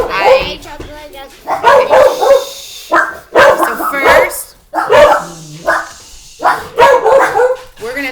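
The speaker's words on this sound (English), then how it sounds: "we're gonna have to lock up these dogs now for videos" Dogs bark repeatedly at home in loud, sharp bursts close by. A person talks briefly among the barks.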